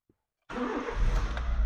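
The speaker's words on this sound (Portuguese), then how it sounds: "Vamos dar partida no carro." A Honda Fit's engine cranks and catches at about half a second, settling into a steady, close, loud idle with a low rumble and no talk.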